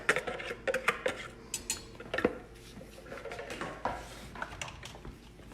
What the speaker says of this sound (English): And then we can just mix that with a regular wooden spoon.